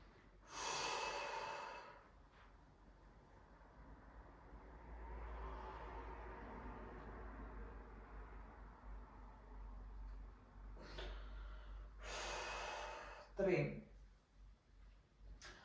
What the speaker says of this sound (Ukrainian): Увага, вдих.